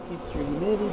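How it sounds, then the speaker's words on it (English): Honey bees buzz around their hive in a close, continuous drone that swells slightly louder partway through. "Contrast of two colors of bees in here, eh?"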